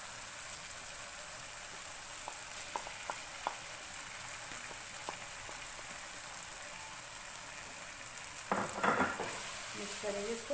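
Fresh fenugreek leaves go into a pan of potato masala with softened tomatoes, over a steady low sizzle with scattered spoon clinks, then a sudden louder rustling hiss as the greens hit the hot oil.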